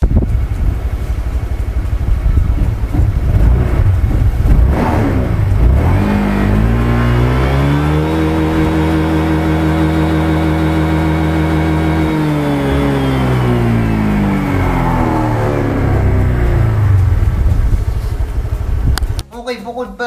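Honda Click 150i scooter with an aftermarket pulley set, revved on its center stand: engine note climbs steadily to a high sustained whine, holds, then drops away, loud and close throughout.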